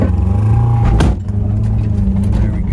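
Toyota Corolla engine held at high revs with a steady droning hum, a brief clunk near the one-second mark, then continued strong engine tone as the car drives up onto a 5x10 trailer.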